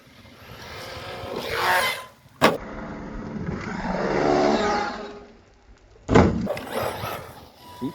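An Arrma Mojave 4S RC car at full throttle, its electric drivetrain whining up in two long rising and falling passes, with sharp bangs of impacts or landings in between, loud and fairly close outdoors.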